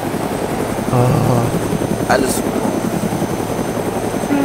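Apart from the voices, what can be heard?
helicopter flying in a video game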